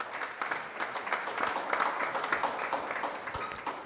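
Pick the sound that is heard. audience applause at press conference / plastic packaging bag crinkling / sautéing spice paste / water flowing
audience applause at press conference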